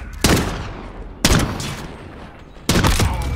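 Three heavy gunshots in Modern Warfare, evenly spaced about a second apart, each a loud, close blast with a booming tail, with no voices.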